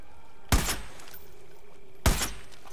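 Two loud gunshots in the video game Far Cry 5, fired at a barrel about a second and a half apart, each a sharp crack with a short ringing tail over quiet ambient background.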